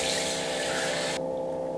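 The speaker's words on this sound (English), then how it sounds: "I do this with warm water until everything is off." A face being rinsed with warm water: a steady rush of tap water running and splashing close by, with a brief change in the splashing partway through and no voices.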